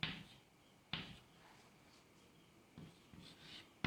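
Chalk or a marker taps and scratches on a classroom board in short, sharp strokes with pauses between them. The strokes are faint and close, and no voice is heard.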